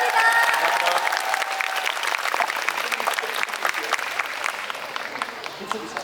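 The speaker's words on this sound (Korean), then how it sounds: "세 분의 배우분들 수고하셨습니다. 큰 박수 부탁드리겠습니다" A concert audience at a Daehangno musical show gives three actors a big hand. The clapping is strong at first, then thins gradually into scattered claps, with light cheering mixed in.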